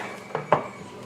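A spoon knocks and scrapes twice inside a pot of bulgur and black beans, two short clinks close by over a quiet background.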